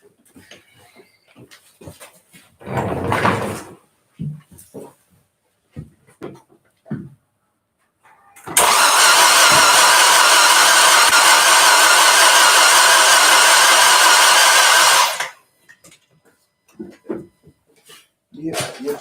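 Newly built Orange Rocket project car engine cranking, then starting and revving near 4,000 RPM for about six seconds as a loud steady roar, with people talking before and after.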